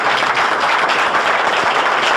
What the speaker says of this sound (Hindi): एक बार ताली बजा दीजिए इनके लिए भी